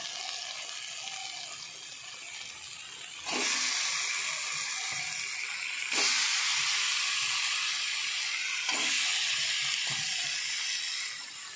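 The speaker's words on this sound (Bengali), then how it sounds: "আমার মশলা ভাজা হয়ে গেছে বন্ধুরা, এবার আমি মাংসগুলো দিয়ে দেবো।" Chicken pieces hit a pan of fried spices with tomato, setting off a loud, sharp burst of sizzling three times in succession, each flaring up and then settling into a steady hiss.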